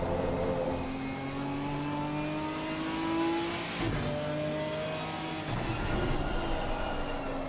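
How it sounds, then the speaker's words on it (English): A Ginetta race car at Spa in a sim racing game roars through corners with engine drone and a long, high tyre squeal rising over it, loud and continuous, with other cars passing. "You can hear the car squealing."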